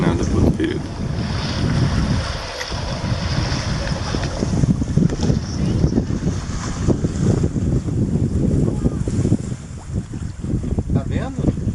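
A sailboat moving under sail in light wind off the Brazilian coast with its engine shut off, a continuous rush of wind buffeting the microphone and water sloshing against the hull, loud and close throughout.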